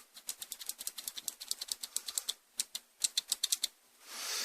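Rapid clicky keypresses from mechanical switches, a quick series of sharp taps with brief pauses, ending in a short rush of noise.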